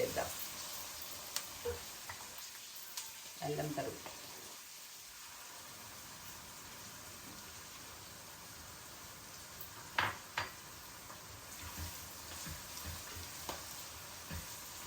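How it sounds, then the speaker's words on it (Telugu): Onions frying in a pan for tomato bath, with a faint, steady sizzle throughout, a few brief clinks and stirring scrapes breaking through at intervals. "మన ఉల్లిపాయలు చక్కగా వేగుతున్నాయి కదా"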